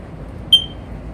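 A Sears 302.57475 smoke alarm gives a single short, high-pitched electronic beep as its battery is inserted, clear and close against a quiet room.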